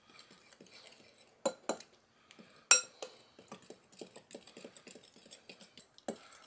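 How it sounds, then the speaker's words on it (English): A fork scrapes and clinks against a bowl while fruitcake ingredients are mixed, giving irregular close taps and sharper metallic chinks with quiet pauses between strokes. "we're going to mix that all together with a fork here"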